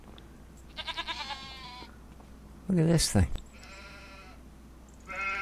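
Full-grown goats in Farming Simulator 25 bleat in short, wavering cries, with a louder, harsher bleat near the middle; someone speaks briefly between them.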